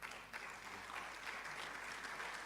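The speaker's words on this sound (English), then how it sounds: "Let's clap for her." Applause from the audience at a public lecture, a faint, even patter of clapping heard from a distance and continuing steadily without talk.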